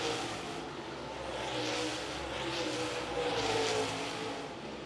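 Super late model stock cars race at Lancaster Motor Speedway. Engines roar loud and continuous through a corner, with rising and falling surges as cars go past, and no voices.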